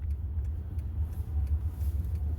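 A car on the road rolls past close by as a steady, heavy low rumble with faint road hiss, loud throughout and without any voices.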